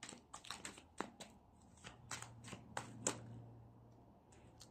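A deck of tarot cards is shuffled by hand in quiet, close bursts of crisp riffling and slapping. The rhythm is irregular over a few seconds, with a faint low hum underneath.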